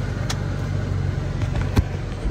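A Chrysler 300 engine idles steadily after a misfire fix, a low even hum with a couple of brief sharp clicks or knocks near the end.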